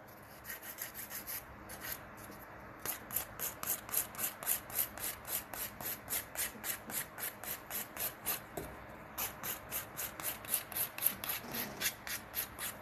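Rhythmic rasping of an 80-grit file shaping long almond acrylic nails, quick even back-and-forth strokes that repeat steadily, close and fairly quiet, with two brief pauses and no talking.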